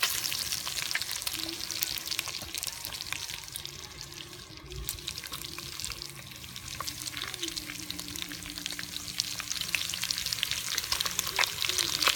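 Bacon fries in a Dutch oven outdoors, making a steady, dense sizzle with faint crackles throughout and a low hum beneath.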